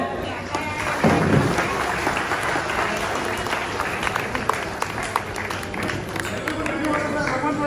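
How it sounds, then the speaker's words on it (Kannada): A seated audience at a senior citizens' association honouring event claps in sustained, dense applause from start to finish, with a few louder thumps and some talk mixed in. "ಚಪ್ಪಾಳೆ."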